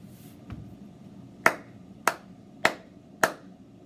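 A teacher claps out a short rhythm in a quiet room during a music note review: a faint tap, then four crisp, evenly spaced claps heard alone.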